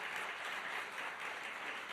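Large crowd applauding steadily at a State Department-hosted event on women and democracy, a dense, even wash of clapping that fills the whole stretch with no voices over it.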